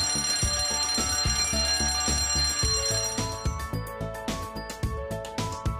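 An electronic fire alarm rings continuously in a ship safety induction animation, a loud steady repeating tone with a pulsing electronic pattern and no voices.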